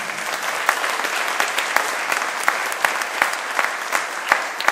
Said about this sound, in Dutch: Mag ik u applaus voor Rita?